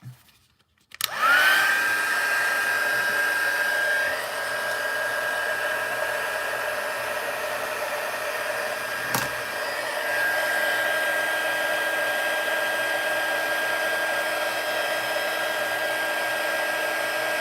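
An embossing heat tool runs steadily and loudly on its own for the whole stretch, heat-setting embossing powder on a stamped card, with a constant blowing whine and no talk.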